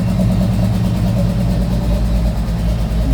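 Steady, close idle of a large six-cylinder car engine that has just fired up, a loud low throbbing drone with a faint rise and fall and no talking.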